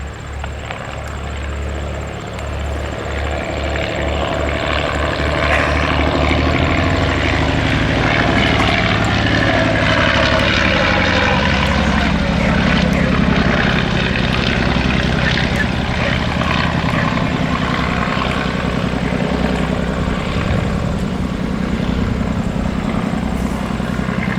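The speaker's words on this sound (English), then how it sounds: "Listen for the music of that engine." A 1918 Fokker D VII propeller engine rumbles loudly and steadily, its pitch and drone rising as the plane runs up and passes close by, with no talking.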